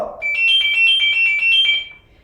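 A fire brigade alarm tone played on a pager-like device: a short, loud electronic beeping with a fast, steady pulse of repeated high tones lasting under two seconds, heard alone.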